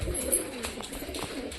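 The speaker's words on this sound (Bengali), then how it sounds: "বাইরে শুধু আমি পায়রার ডানার আওয়াজ শুনতে পারছি" Domestic pet pigeons coo in a short burst close by, a soft low warbling call with faint rustle around it, no speech.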